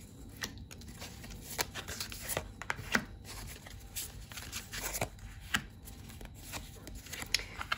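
A deck of tarot cards is shuffled by hand, giving a steady stream of close, soft riffling and flicking with sharper slaps scattered throughout, alone without speech.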